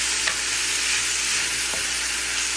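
Food sizzles and fries in a hot pan, a steady bright hiss with faint stirring clicks, close and loud, with no talking.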